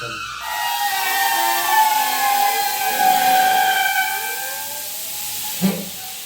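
A pressure cooker releases a loud, sustained hiss of escaping steam with a whistling edge, lasting several seconds before a brief clunk near the end.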